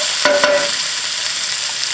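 Broccoli rabe and potatoes stirred in a pan over medium heat: a steady bright sizzle with a couple of sharp utensil knocks near the start, then even frying noise.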